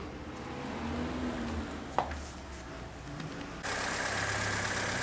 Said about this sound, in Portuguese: O carro está funcionando já aí sem o câmbio, distribuição aberta